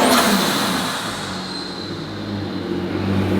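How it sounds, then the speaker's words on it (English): A Mercedes V12 turbo engine revving in a car collection, a loud close roar that flares sharply at the start and then holds a sustained, slowly falling tone with a turbo whine on top. "That is all turbo sound. All turbo, V12 turbo."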